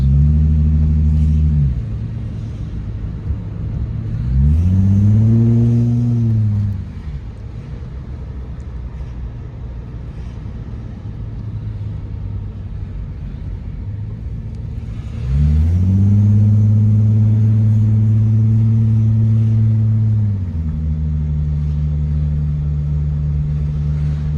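Holden VT/VX/VY Commodore engine running on the road, with two clear rising revs as it accelerates through gears, then settling back into a steady low drone.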